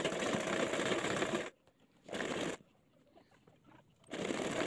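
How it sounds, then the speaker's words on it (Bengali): Domestic sewing machine stitching a skirt hem, running in three bursts of steady rapid whirring separated by pauses, close and clear with no talking. "এবার আমি এখান থেকে চিকন মুড়ি করে সেলাইটা করে নেব।"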